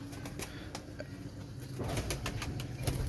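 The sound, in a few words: pigeon flapping its wings as it is released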